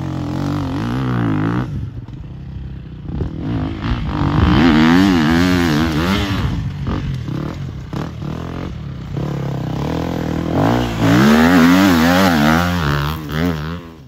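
Motocross motorcycle engine carving through a turn, loud and close throughout, its pitch rising and falling in repeated revs with short throttle-offs between surges.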